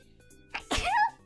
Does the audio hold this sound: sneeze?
yes